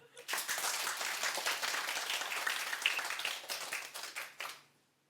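Lecture audience bursts into sustained applause, dense clapping from many hands filling the room for about four seconds before fading out quickly at the end.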